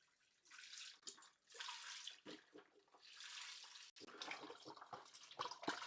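Beef stock pouring into a cooking pot, a steady splashing liquid stream in bursts with brief pauses, close and fairly loud, no talking.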